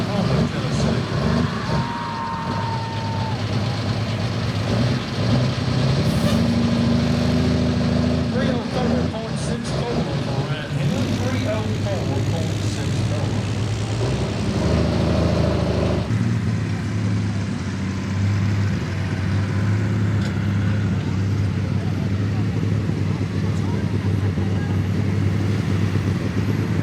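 A super stock tractor at a night tractor pull in Ardmore, Tennessee, its engine roaring loud and sustained with shifting pitch, under an announcer's voice over the PA.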